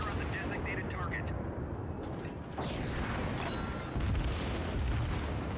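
Naval guns fire and shells explode in a World of Warships battle: heavy, rumbling booms and dense blasts that roll on continuously, with one sharp crack partway through and a deeper thump near the end.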